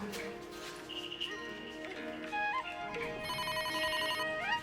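An electronic phone ringtone plays a bright, repeating melody of tones, fairly quiet, with the tune shifting and growing busier toward the end.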